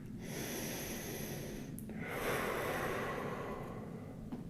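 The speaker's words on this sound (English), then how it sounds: "Three breaths here." Slow, steady breathing through the nose during a held yoga chest-opening stretch, arm bent at ninety degrees, close and soft with audible snorty inhales and exhales and no talking.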